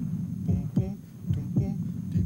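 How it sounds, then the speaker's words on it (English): A heartbeat thumps in a steady lub-dub rhythm, about three double beats, low and close with a faint hum underneath. "You've got a good heartbeat going there"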